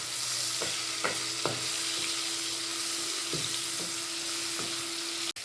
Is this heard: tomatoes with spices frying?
yes